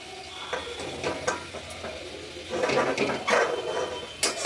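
Onions frying low and slow for vegetable biryani beresta, a soft steady sizzle with occasional stirring scrapes and clinks of the pan, fairly quiet and close, no voices.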